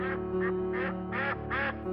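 A mother duck quacks softly from below a tree hollow beside a still pond, calling to her fuzzy ducklings in five evenly spaced calls over a steady ambient hum.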